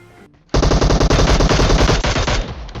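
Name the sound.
gunfire in a video game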